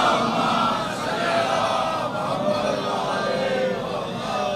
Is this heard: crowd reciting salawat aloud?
yes